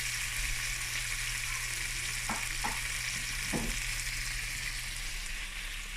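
Boiled potatoes pan-fry in duck fat with a steady hiss and sizzle and a few soft stirring taps, close and even with no voices.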